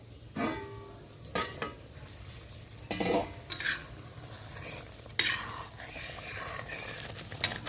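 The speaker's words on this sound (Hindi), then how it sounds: "तो मसालों को थोड़ा गाढ़ा होने तक पका लेते हैं" A spoon stirs and scrapes through spice masala sizzling in a pan, with scattered clinks of metal against the pan over a low, steady fry.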